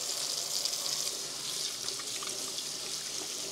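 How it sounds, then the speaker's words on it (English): Tap water runs steadily into a sink while hands are washed, a continuous soft, hissing stream at moderate distance. "I'm just gonna wash my hands"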